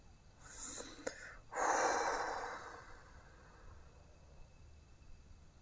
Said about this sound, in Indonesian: Bentar, saya keluarkan napas saya dulu.